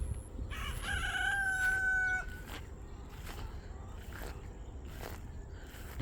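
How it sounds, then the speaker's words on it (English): Roosters crow loudly at a rural Philippine property, one long drawn-out crow up close, then chickens cluck and scratch in short bursts in the background, with faint ambient noise and no talking. "The chickens were quiet till I came out here."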